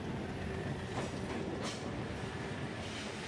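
A Rovos Rail train is dragged uphill by twin 3,000-horsepower diesel locomotives, a dense, continuous rumble and clatter of wheels and engine, steady and moderately distant throughout.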